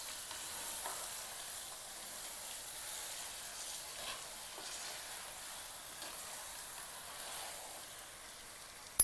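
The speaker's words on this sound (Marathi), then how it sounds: "मटण टाकायचं, मटणाला छान परतून घ्यायचं।" Mutton sautéing in a pan with spices and coriander gives a soft, steady sizzle with faint stirring scrapes, quiet and close, no talking.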